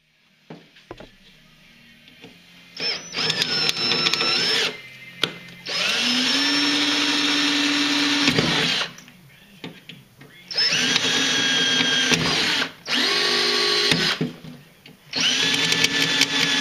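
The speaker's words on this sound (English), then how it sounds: "We're going to start by drilling out the rivets along the rail here." A cordless drill whines in several long bursts, each spinning up and bogging slightly as it drills out metal rivets along an aircraft rail, with short pauses and clicks between runs.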